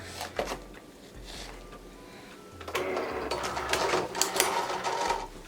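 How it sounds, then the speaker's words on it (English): A Cricut cutting machine whirs and clicks as it loads a cutting mat for puffy vinyl, quiet motorized feeding with short mechanical clatters, growing busier in the second half, no voices. "I'm going to open my Cricut machine up and then load up my mat"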